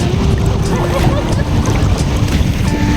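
Sea waves washing around a small boat on a holiday outing, a continuous loud rush of water and wind buffeting close to the microphone, with faint voices under it.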